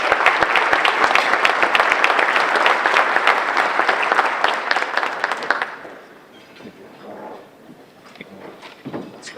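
Audience applause at a chamber of commerce breakfast, a dense, loud burst of clapping that runs about six seconds before tapering off into quieter room noise and scattered sounds.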